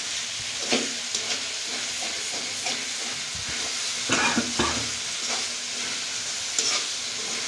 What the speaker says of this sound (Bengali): এবং ভালো করে নাড়িয়ে দেওয়া হচ্ছে যাতে এগুলো কড়াইয়ের তলার সাথে লেগে পুড়ে না যায়